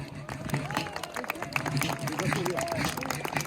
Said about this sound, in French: Eh bien, on peut encore les applaudir très fort.